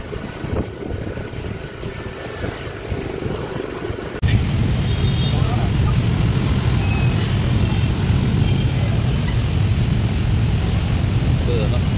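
Dense rush-hour street traffic in Ho Chi Minh City, a steady loud roar of engines and motorbikes that thickens partway through, with people talking nearby.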